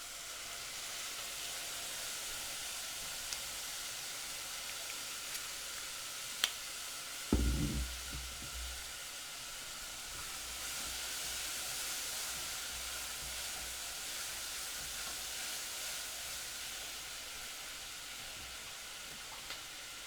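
Onions with balsamic vinegar and sugar cooking in a pan for onion soup, giving a faint steady sizzle and hiss throughout, with a brief clatter partway through.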